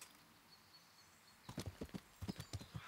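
Horse hooves clip-clopping at a walk in the medieval game Kingdom Come: Deliverance, a run of close, distinct thuds starting after a quiet opening and continuing in an uneven rhythm.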